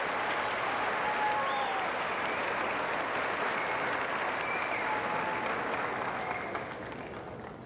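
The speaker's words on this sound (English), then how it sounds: "Let's give them a round of applause." Sustained applause from an audience at a high school graduation, a steady dense patter of clapping that continues for several seconds before starting to taper off.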